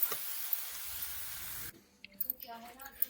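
Something roasting in a pan, a broad steady sizzling hiss for the first half that cuts off abruptly, followed by scattered clatter and quieter kitchen sounds.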